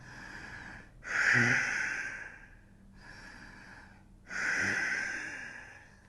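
Deep breathing during a yoga sun salutation: two slow cycles of a strong, close inhale followed by a longer, softer exhale, with no speech.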